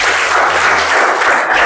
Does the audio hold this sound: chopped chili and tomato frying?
no